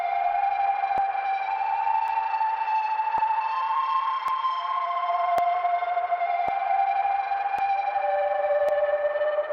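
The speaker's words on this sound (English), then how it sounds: "up next we got a crazy lead, full of reverb" A sustained synth lead plays slow gliding notes drenched in heavy reverb, with soft periodic clicks marking the beat underneath.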